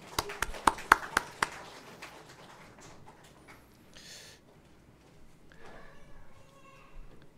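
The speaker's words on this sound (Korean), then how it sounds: "우리 하나님께 영광의 박수 올립니다." A congregation at a church service clapping, a quick burst of about seven sharp claps in a row at the start that then fades into quiet room tone and scattered murmurs.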